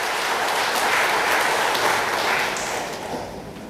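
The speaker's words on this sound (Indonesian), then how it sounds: "Tepuk tangan buat Bapak Presiden." An audience at a regency government speech applauds for the President of Indonesia, a broad, steady wash of clapping that holds for several seconds, then thins slightly toward the end.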